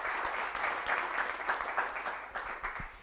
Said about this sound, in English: A round of applause for all the startups that have pitched today